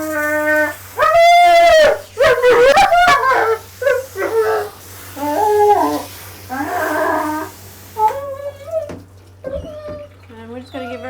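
A dog being bathed at a dog wash whines and howls in loud, rising and falling bursts, with water running steadily underneath and gaps between the cries.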